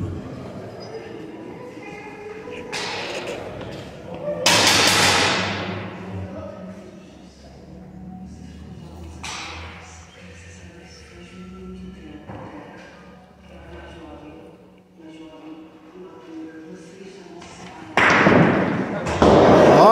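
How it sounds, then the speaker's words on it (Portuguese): Bocce balls on an outdoor court during a doubles match, a sharp knock as the thrown ball strikes and clears another, followed by further thuds and rolling impacts, with background voices and crowd murmur. "Vai atirar a bocha que acabou de chegar ali."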